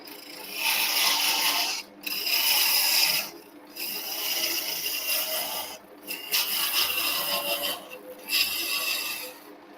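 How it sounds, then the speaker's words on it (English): A parting tool cuts into a wooden Christmas decoration spinning on a lathe, giving a steady, close scraping rasp in several sustained passes broken by brief pauses. "I'll just do a little cut in here with the parting tool."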